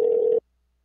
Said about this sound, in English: You can hear the phone ringing.